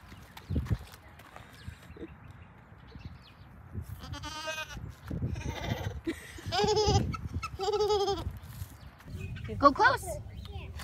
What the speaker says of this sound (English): Olivia. Look, come give this to the goat.